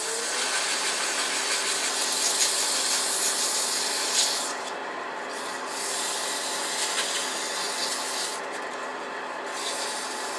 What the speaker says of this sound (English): take some 120 grit and sand out any tool marks I've got